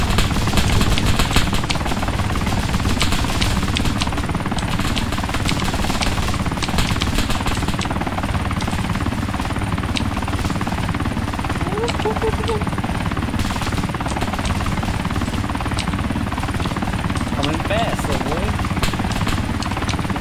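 A video-game Osprey tiltrotor aircraft comes in hot for a runway landing, its dense rotor and engine roar loud and continuous throughout, with a voice talking over it.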